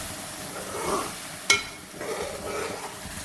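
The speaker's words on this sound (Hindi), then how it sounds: "ये मैं अपना शीरा डाल देती हूँ इसमें। इसको भी अच्छी तरह से पकाना है" Sugar syrup poured into semolina halwa cooking in a pan gives a soft, steady sizzle with a brief clink near the middle, close and alone without talk.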